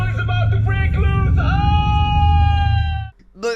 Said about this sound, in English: the professor detects an incoming blowout and lets out a hilarious scream